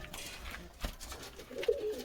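An Andhra pigeon, a fierce-tempered loft bird, gives a soft, low coo near the end, heard close but faint over steady background hiss with no talking.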